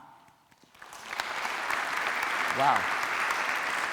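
Audience clapping at a keynote talk, starting quietly and swelling into sustained applause from a room full of listeners, with a speaker's brief exclamation heard over it.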